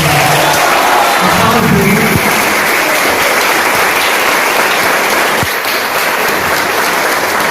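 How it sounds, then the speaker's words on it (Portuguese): Church congregation at a Christian apologetics retreat applauding steadily, a dense wash of many hands clapping at close range that holds even and unbroken throughout. "Pode aplaudir para mais"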